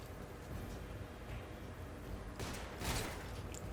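Gunfire aimed at an enemy soldier in Metal Gear Solid Delta: Snake Eater, with a couple of sharp bursts standing out late against a dense, noisy game background.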